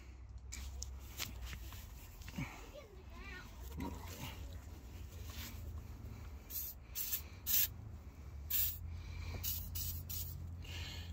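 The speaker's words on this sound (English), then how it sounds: "And I'm spraying this probably on the back of my brakes," Aerosol protectant sprayed onto the rear brakes of a 1996 Chevy Impala SS during an engine cradle and wheel clean-up, heard as several short hissing bursts in the second half over a low background rumble.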